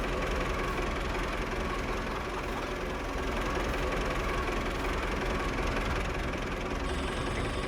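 An Ursus tractor engine runs steadily while wheat is loaded into its tank, a loud, continuous low mechanical drone with a knocking texture and no talk over it.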